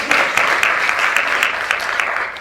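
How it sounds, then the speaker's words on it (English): Loud, close audience applause at a health policy research summit, a dense continuous clatter of many hands with a few sharper individual claps standing out. "So let's give Pat Gardner another round of applause"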